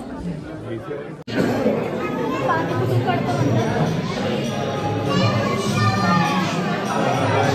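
A dense crowd chatters at a temple in Mahabaleshwar, with many overlapping voices, including children, forming a steady, loud murmur after an abrupt cut-in.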